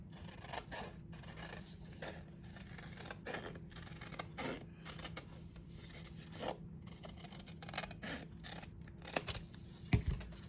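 Scissors cut out a large paper heart, a run of short dry snips and rasping slides at an irregular pace, quiet and close, with a slightly louder crinkle near the end and no voices.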